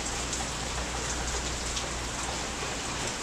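Steady rain falls outdoors in a soft, even hiss of drops on surfaces, continuous and fairly quiet with no voices.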